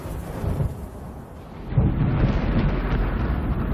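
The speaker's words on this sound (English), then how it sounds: "Hey, storm's moving in quick." Thunder from a storm moving in over a hiking area, a continuous low rumble that swells louder partway through and keeps rolling, with no voices.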